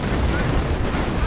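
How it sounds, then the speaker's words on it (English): Dense rattling gunfire pouring onto Panzer Grenadiers in a World War II strategy game, a short, loud, continuous crackle of shots with a faint voice underneath. "Panzer Grenadiers under heavy fire."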